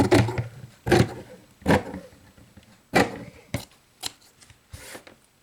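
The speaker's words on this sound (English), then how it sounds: "I'm going to come in and I'm going to cut this like an inch." Scissors snip through cross stitch fabric in a series of separate crisp cuts, about eight close, sharp strokes with short pauses between them, no voices.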